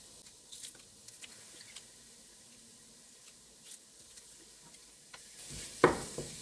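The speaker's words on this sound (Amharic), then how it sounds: "ነጭ ሽንኩርቱንም አብረን እናቁላለዋለን።" Garlic fries with onion and pepper in a pan for a vegan taco filling: a faint, low sizzle with sparse soft scrapes and taps of a stirring utensil, then a sharper clack near the end.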